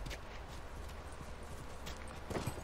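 Horse hooves clip-clopping in The Last of Us Remastered, a soft, uneven run of hoof falls over a low ambient bed, faint and fairly distant, ending in a couple of slightly louder steps.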